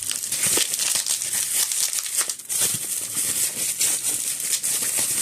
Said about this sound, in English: Got to cut this open.